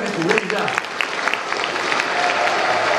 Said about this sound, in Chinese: 那我们大家要用掌声为你鼓励一下